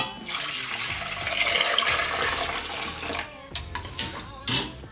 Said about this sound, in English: put some water,